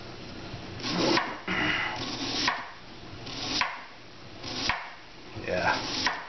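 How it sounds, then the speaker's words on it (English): A not-quite-sharp knife slices beef thin on a cutting board in about six steady, rasping strokes, each a close, rough drag against the board with short pauses between. "I like to slice these guys thin. Just thin, thin,"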